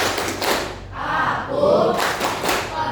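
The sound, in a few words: concentration clapping routine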